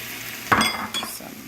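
Beef and vegetables cook in a skillet with a steady sizzle, broken by a sharp clatter of a utensil against the pan as the food is flipped, then a second, softer scrape.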